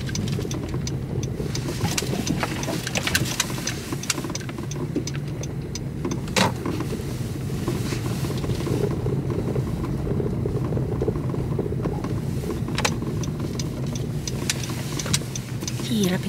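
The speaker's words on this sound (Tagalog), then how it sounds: "Parang busy. Ang daming sasakyan." Steady street traffic in Canada with car engines humming and passing continuously at moderate level, a few brief clatters, and people talking intermittently over the rumble.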